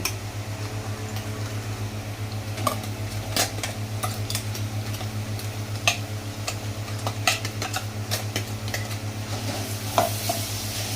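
Ground cluster beans tipped into onions frying for a spicy thecha chutney, a steady sizzle under a constant low hum, broken by repeated scraping and clinking of a spoon stirring against the pan, no talking.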